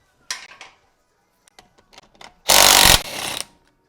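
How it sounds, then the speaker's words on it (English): DeWalt 20-volt cordless impact wrench on a 2000 Ford Ranger brake and wheel job, with a few light metallic clinks and then a loud, close half-second rattling burst and a shorter trailing whir. "It's a DeWalt 20-volt impact wrench, one of the best tools I ever purchased."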